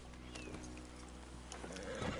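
Horse sounds from a video game, a soft snorting and shuffling of hooves heard faintly over a steady game background with no talking.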